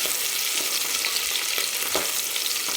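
Sliced onion fries on a high flame for dry mutton, giving a dense, steady hissing sizzle close up with faint stirring rustles throughout and no voices.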